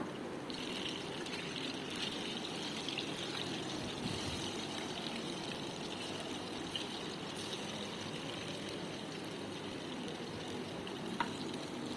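Motha fish fries in hot oil on a high flame for a crispy Kerala-style fry, giving a steady, even, hissing sizzle that runs unbroken and fairly quiet throughout.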